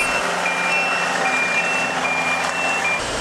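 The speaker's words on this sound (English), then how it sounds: "The beeping of machines." Loud, steady reversing beeps from heavy construction machinery repeat over a constant engine rumble, close by.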